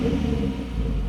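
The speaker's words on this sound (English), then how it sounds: "Low in the RPMs, it's nice and rumbly and gurgly, especially on startup." Deep, steady exhaust rumble from a 3.7 V6 Mustang with a Borla S-Type exhaust, a continuous low burble idling close by with no talk over it.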